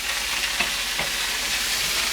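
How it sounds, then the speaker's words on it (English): Potatoes being stirred in a pot on the stove, a steady sizzle and frying hiss with soft scraping stirs against the pot bottom, close and continuous with no talking. "Give my potatoes a slight stir so they're not burning on the bottom of the pot"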